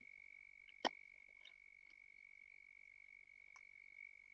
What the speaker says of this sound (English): listening to them crickets croaking